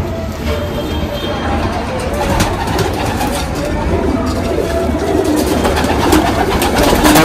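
Pigeons, local domestic birds at a pigeon market, coo in a dense, busy chorus under loud, steady crowd and street noise with occasional voices, the murmuring calls blending into a continuous rumble.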